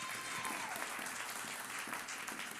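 Steady, dense applause fills a church service during bilingual French-Portuguese worship acclaiming Jesus, a continuous wash of many hands clapping at moderate level with no break.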